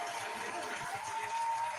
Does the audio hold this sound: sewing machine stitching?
no